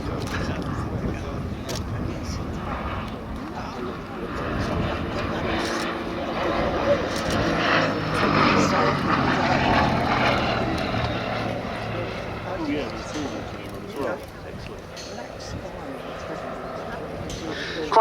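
Gloster Gladiator biplane flying over Duxford air show, a steady propeller-engine drone that swells and fades as it passes, loud and sustained over open-air ambience.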